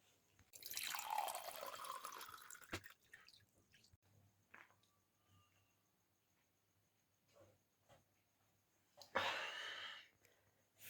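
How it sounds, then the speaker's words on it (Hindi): Someone drinks water at home, giving soft liquid and swallowing sounds in two bursts separated by quiet drips and small clicks, heard close with no talking. "तो चलो थोड़ा पानी पी लेते हैं।"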